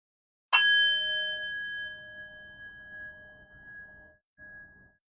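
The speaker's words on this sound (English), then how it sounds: "I will ring the bell, ending our first round of meditation." A single meditation bell strikes once with a bright attack, then rings on in a clear, sustained tone that slowly fades over several seconds in a quiet room.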